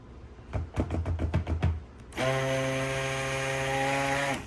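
A stick blender pulses soap batter in about eight short bursts, then runs in one steady, whining stretch for a couple of seconds, close and fairly loud.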